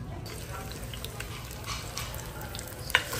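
Corn sautéing in a pan for ginisang mais sizzles steadily up close, with scraping stirs and small clinks scattered through, and one sharper knock near the end.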